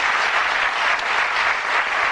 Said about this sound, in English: A nice warm round of applause, a lovely couple